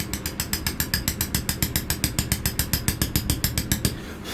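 Rapid, evenly spaced metallic taps of a hammer driving a chisel into stone while carving a logo by hand, about six strikes per second, close and loud with no talking.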